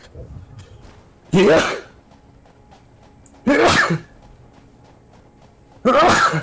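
A person sneezes three times, each sneeze loud, close and explosive, spaced about two seconds apart with quiet breathing and faint background in between.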